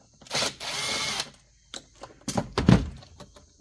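A power screwdriver backs screws out of a bathroom exhaust fan cover, with a short whirring run followed by a couple of brief bursts and a few hard plastic clunks, close up.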